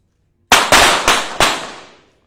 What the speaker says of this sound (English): So hopefully you can hear us over the firing.